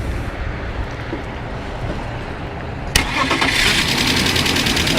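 A 1997 BMW 528i E39 engine cranks and catches at about three seconds, then settles into a steady, loud, close idle with a slight rattle. Before it starts there is only a low background rumble, and no one talks.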